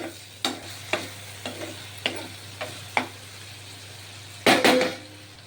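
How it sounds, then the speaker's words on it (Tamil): Onions and tomatoes sauté with rock salt in a pan: a faint low sizzle runs underneath while a spoon scrapes and knocks the pan in a series of spaced strokes, ending in a louder clattering flurry. "வெங்காயம் தக்காளி வதங்கிறதுக்கு கொஞ்சம் கல்லுப்பும் சேர்த்துக்கலாம். நல்லா வதக்கணும்."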